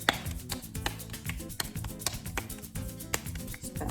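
Hands pat and slap pupusa dough flat in a quick, uneven rhythm of soft thuds, close and clear with no talking.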